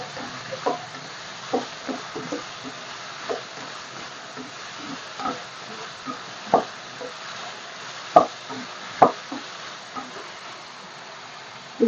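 Vegetables frying in a pan for avarekalu saaru, with steady soft sizzling broken by repeated stirring scrapes and clicks of a spoon against the pan, close and moderately loud.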